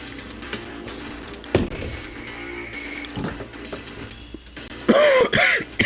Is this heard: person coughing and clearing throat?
yes